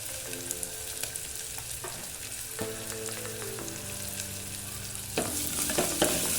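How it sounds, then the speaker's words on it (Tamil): Onions and green chilli sautéing in a pan give a soft, steady sizzle, broken by several scraping stirs of a spoon against the metal and a brief louder clatter near the end; no voices. "வெங்காயம் நல்லா வதங்கட்டும்."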